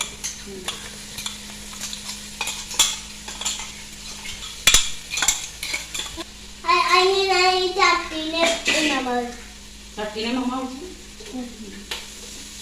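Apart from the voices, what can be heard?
sautéing crushed ginger, green chili and garlic in pan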